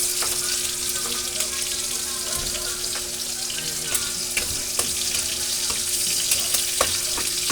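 Onions frying in a pan for pork sinigang with pechay: a constant close sizzle and crackle with scattered sharp pops, steady throughout and free of talk.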